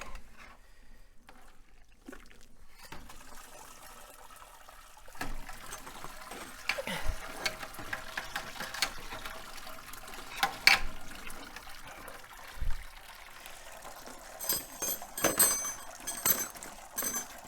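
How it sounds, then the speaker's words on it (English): Wort draining from a lifted grain basket during a Dunkel Weizen home brew, heard as a quiet, steady trickle and dribble of liquid with occasional soft splashes and knocks. "It means it's time to drain your grain."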